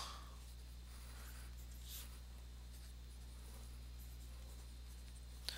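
A pencil scratches on paper in a few soft, brief strokes, faint over a low steady hum in a quiet room.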